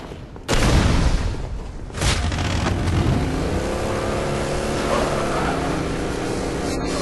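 In a racing video game on an impossible track, a car crashes with two heavy booms in quick succession, then a sustained revving engine drone carries on loudly.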